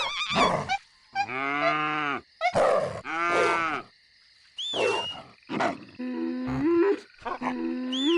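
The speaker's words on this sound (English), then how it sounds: "We could have the cow, a strong and noble beast." Cow in the Black and White god-sim video game, a series of loud, close, drawn-out moos and bellowing calls separated by brief silences, mixed with other short animal cries and warbling effects.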